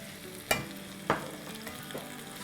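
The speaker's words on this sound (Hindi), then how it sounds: "अब हम इसमें दही डालते हैं और भूनते हैं" Masala for matar paneer curry, made with chili powder and with yogurt added, sizzles steadily in a pan, with a couple of sharp stirring clinks over the continuous frying hiss, close and without talk.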